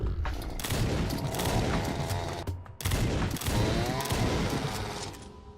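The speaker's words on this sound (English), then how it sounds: "Gives me time to set up my shotgun." Shotgun fire in the video game Doomed, loud repeated blasts and heavy gunfire in quick succession with a brief break midway, dense and close throughout.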